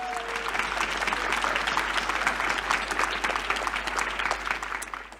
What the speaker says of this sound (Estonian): Palun suur aplaus neile